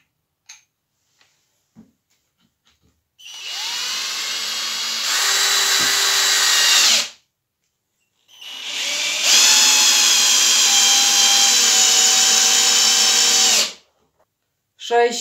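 A Graphite Energy+ 58G010 cordless impact drill driver driving long screws into wood, in two sustained whining runs of several seconds each, the motor pitch shifting as load builds, loud and close, with brief quiet clicks and handling noises between.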